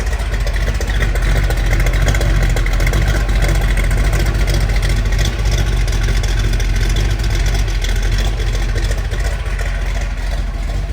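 A 1969 Chevrolet Camaro Z/28 Rally Sport with its DZ302 V8 running smoothly at idle, a loud, steady engine rumble lasting throughout with no talk over it.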